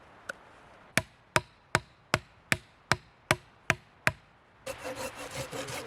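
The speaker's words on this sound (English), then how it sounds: "stop the wood from splitting when you hammer it into the ground" Steady, evenly spaced hammer blows drive a wooden stake into the ground at a woodland camp, about nine sharp knocks in a row, then a rustling, scraping sound follows.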